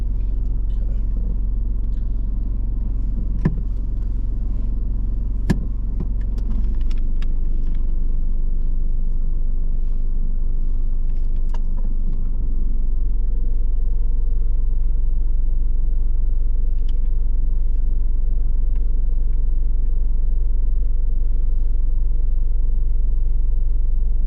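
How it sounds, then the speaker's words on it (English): A learner driver's car reverses slowly about two car lengths along a kerb on the right during a mock driving test, giving a steady low engine rumble close by with some faint cabin sounds and no speech. "I'd like us to reverse back 2 car lengths, keep close proximity to the curb on your right"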